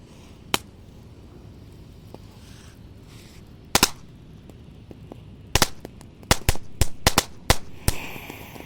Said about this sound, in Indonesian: Ini ada mercon tank Thor, bisa jalan ini bosku, ada rodanya.